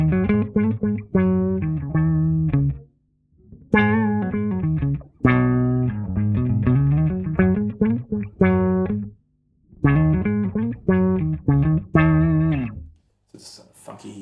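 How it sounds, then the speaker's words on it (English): A guitar runs through a Soundtoys Filter Freak filter set to a funky octave-down envelope effect, producing thick, buzzy synth-like phrases of choppy notes that come in bursts separated by brief silences, played alone with no talking. "Filter Freak is basically something where you can set it to be like an envelope filter"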